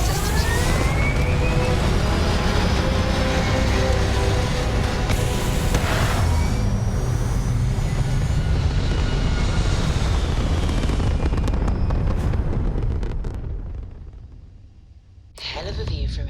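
A spaceship lifting off in a sci-fi space game, a loud sustained roar with deep rumble and rising whine that holds steady for many seconds, then fades away before a brief burst returns, a voice speaking over it.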